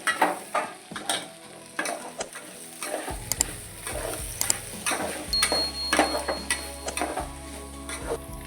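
A spoon stirs turmeric and red chilli powder into khichdi in a pan, giving irregular scrapes and clicks over a low, continuous sizzle.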